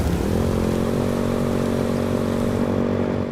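A motorcycle engine drones in the Code Vein II video game, a loud, steady, buzzing hum that holds an even pitch throughout without pauses.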